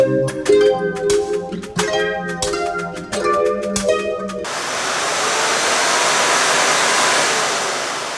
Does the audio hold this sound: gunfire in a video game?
no